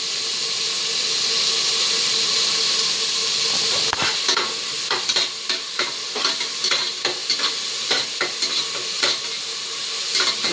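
Tomatoes with salt fry loudly for goat head curry, a steady sizzle that turns into a rhythmic run of spoon scrapes and clacks against the pan after a few seconds, close up and with no speech.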